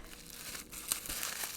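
Plastic packaging crinkles and crackles as an anime figure from a One Piece set is unwrapped, a steady close rustle with a few sharper crackles and no talking.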